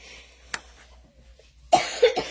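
Dry coughing from a woman close by: one sharp cough, then a pause, then a louder burst of two or three harsh coughs at the end.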